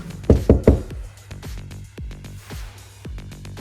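Three sharp knocks on a door sound close and loud at the start, followed by softer scattered thumps and taps.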